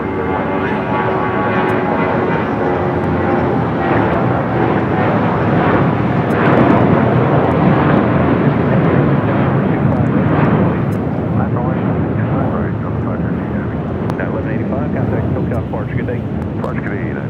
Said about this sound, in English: That was the United flight heading to Cabo and then A321.